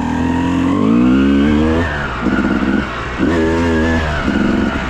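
A Honda CRF450X dirt bike engine running close by, rising and falling in revs with short throttle blips and steady idle stretches between.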